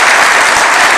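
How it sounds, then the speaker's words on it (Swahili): Loud, dense applause from a large crowd fills the room without a break, near and steady, at an AFC Leopards football club reception hosted by the president at State House, Nairobi. "Tupige makofi jamani."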